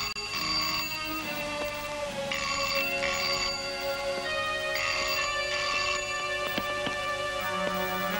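A telephone at a police station rings repeatedly in regular bursts of electronic trills, loud and close, with brief gaps between rings and no talking.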